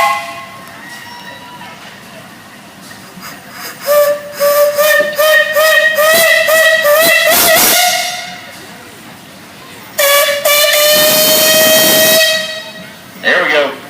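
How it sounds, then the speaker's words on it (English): The steam whistle on a 1914 steam engine at a parade gives a long, loud, harmonic blast, drops out briefly, then sounds another strong blast followed by a short final toot over crowd ambience. "Give us a whistle, Wayne. Come on now."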